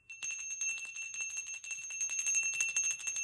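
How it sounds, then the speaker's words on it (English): A small bell rings out with bright, sustained metallic tones, repeatedly struck in a fast shimmering trill, fairly quiet and close, with no voices. "I can ring the bell one more time."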